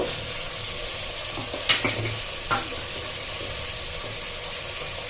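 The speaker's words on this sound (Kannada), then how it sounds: "ಆಲೂಗೆಡ್ಡೆ ಹಾಕೊಳ್ತೀನಿ ಇದು ಸ್ವಲ್ಪ ಎಣ್ಣೆನಲ್ಲಿ ಫ್ರೈ ಆಗಲಿ" Potatoes frying in a little oil, a steady hiss of sizzling with a couple of brief clinks from stirring, close and moderately loud.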